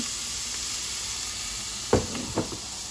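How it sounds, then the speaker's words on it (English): Shrimp and butternut squash sizzle together in one pan: a steady close hiss of frying runs throughout, broken near the end by a couple of knocks of a utensil against the pan. "So you got shrimp and butternut squash cooking right in the same pan."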